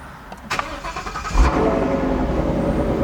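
A Ford Mustang 5.0 fitted with a Corsa Xtreme exhaust fires up: a couple of starter clicks, then the engine catches with a loud deep bark and settles into a rumbling idle, close and alone.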